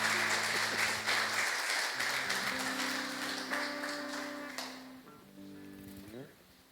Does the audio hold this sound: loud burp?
no